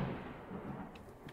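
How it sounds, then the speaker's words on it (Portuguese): Low thunder rumble in a Roblox game, a broad steady roar filling the background for over a second with a couple of faint brief crackles near the end, heard alone without talk. "É barulho de trovão, acho."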